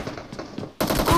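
Gunfire in a shooting video game: muffled, distant shots patter at first, then a loud, dense burst of rapid automatic fire takes over abruptly and continues to the end.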